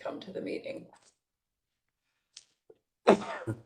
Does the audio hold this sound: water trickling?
no